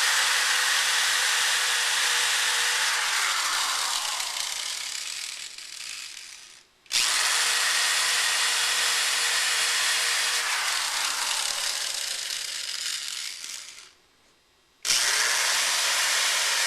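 A power drill driving screws into a door threshold, whirring loudly and steadily in two long runs, its pitch sagging as each screw tightens before a short pause; no talking.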